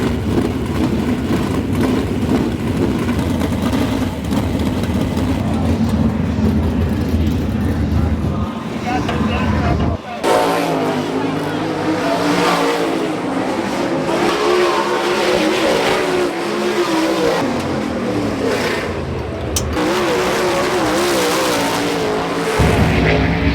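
Race car engines roaring on the dirt track at Eldora Speedway, loud continuous revving and passing engine noise with shifting pitch, a brief dip midway, steady and close throughout.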